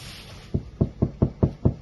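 Knuckles knock six times in an even rhythm on the door of a Volkswagen Tiguan fitted with sound and vibration insulation, each knock a dull, muffled thud, close and clear, with no talk.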